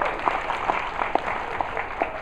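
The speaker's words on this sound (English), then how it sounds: "And give her a round of applause." Applause from an audience at a business technology day presentation, a steady, moderately loud patter of many hands clapping with a few sharper claps standing out, fading slightly toward the end.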